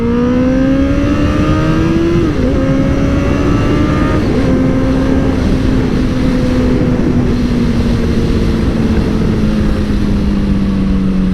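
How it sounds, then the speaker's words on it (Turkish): A powerful motorcycle engine roars continuously, its pitch climbing through gear changes as it accelerates hard, loud and close with no talking. "Motor aşırı dehşet gidiyor"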